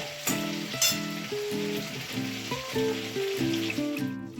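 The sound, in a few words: chilli chicken frying in pan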